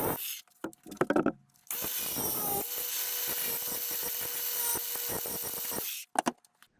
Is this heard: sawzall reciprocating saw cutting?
yes